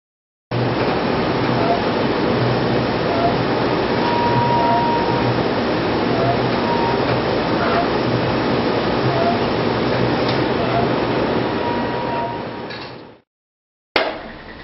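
A loud, dense, steady roar of newspaper printing presses running in a press room fills the clip, then cuts off abruptly near the end before resuming briefly.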